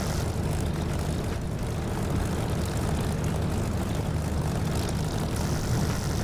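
A Spitfire's propeller engine drones steadily inside the DCS flight simulator, a dense, continuous roar that holds at an even level throughout with no voices.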